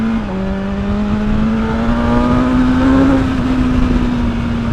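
A BMW M1000R naked motorcycle at full throttle, its engine note climbing steadily as it accelerates hard, loud and close with strong wind rush and no talk.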